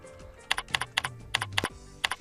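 Quick bursts of computer keyboard typing, about a dozen close, crisp key clicks in uneven clusters, entering a name into a shop management system.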